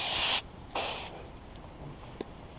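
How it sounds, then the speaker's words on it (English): Two quick bursts of a spray bottle misting water into a worm bin hiss close by, separated by a short pause, followed by quiet rustling and a small tap. "So I'm just going to spray it just a little more."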